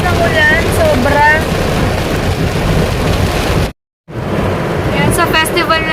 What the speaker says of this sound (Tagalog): kaloka, lakas ng ulan.